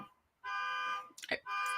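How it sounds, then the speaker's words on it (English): Car horn honking nearby, two sustained blasts with a short clattering noise between them, loud and clear over a quiet room. "Forgive me for that honking."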